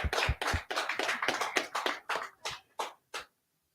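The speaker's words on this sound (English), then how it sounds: "Clap it up." Small gathering claps in a brief scattered burst of sharp hand claps that thin out into a few separate final claps before stopping, close and fairly quiet, with no talking.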